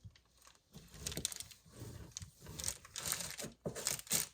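A slab of set, cooled homemade rocky road candy is cut, with crinkly crunching and cracking sounds in short irregular bursts, close and fairly quiet, as the knife pushes through the thick piece.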